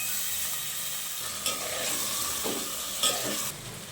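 Continuous frying sizzle as salt and chili are stirred through in a pan, a close, even hiss broken by a few sharp scrapes and clinks of the spatula, no voices.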